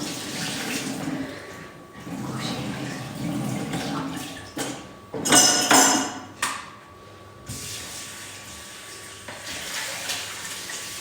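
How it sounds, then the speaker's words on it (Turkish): Tap water runs over raw liver and heart being washed in a kitchen sink, a steady splashing hiss with a louder burst midway and faint clinks. "Furki ciğerlerimizi yıkıyor"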